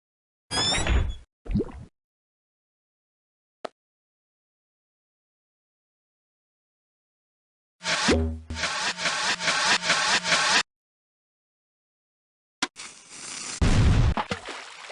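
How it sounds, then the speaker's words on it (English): Cannon firing in the Muppet Treasure Island video game, heard as loud booming blasts in separate bursts: a couple of short hits early, a sustained rumbling barrage in the middle, then another heavy burst near the end, with silence between. "According to the captain, you need to learn how to fire the cannon."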